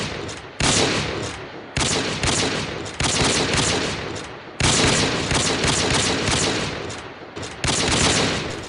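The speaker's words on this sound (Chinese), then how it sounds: "开始射击。" Rifle fire at a military shooting range, staged as a radio drama sound effect: long, loud volleys of rapid overlapping shots, broken by brief silences between bursts.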